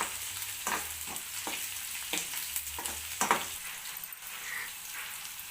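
Chopped onion and green chillies fry in hot oil with a steady, close sizzle while a spoon stirs and scrapes through them at an irregular pace, and no one speaks.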